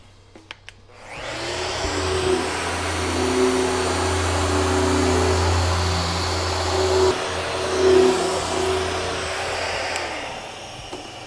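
A guitar's lacquer finish being sanded with 1000 grit paper, heard as a loud, continuous whirring machine hum with a gritty hiss that starts abruptly and runs steadily for about ten seconds before cutting off.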